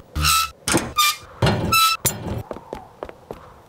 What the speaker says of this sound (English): I heard this funny creaking noise.